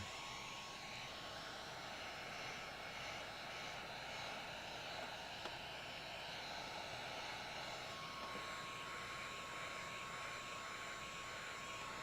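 A heat gun blows hot air onto window tint film on a Dodge Charger, giving an unbroken whooshing roar of airflow at a steady level for the whole stretch, with no talking.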